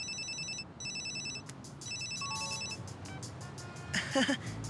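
A cell phone ringtone in an Ultimate Spider-Man cartoon plays a repeating electronic melody in short bursts, followed by chiming tones and a brief burst of bright sound.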